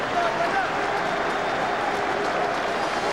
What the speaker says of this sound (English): Sympathetic applause as he comes out to watch the action.